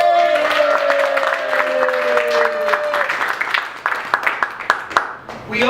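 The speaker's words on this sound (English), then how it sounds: "please give a big round of applause to That Snow movie!" An audience at an improvised film festival in Kansas City claps, first dense with whoops and a rising cheer, then thinning to scattered individual claps as the applause dies away.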